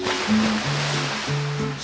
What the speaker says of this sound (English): I love to splash, said Little Quack.